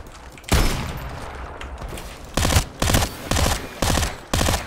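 Gunfire in the shooter game Farlight 84: a dense burst of shots at the start, then five sharp, evenly spaced loud blasts in quick succession.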